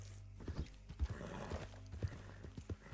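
A horse's hooves clip-clop at an easy, regular walking pace in the Red Dead Redemption 2 video game, quiet and steady for a few seconds.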